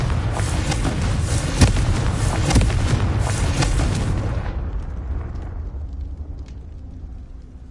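Confringo spell blasts in Hogwarts Legacy, a loud barrage of booming explosive bursts with sharp cracks, fading after a few seconds into a low, dwindling rumble.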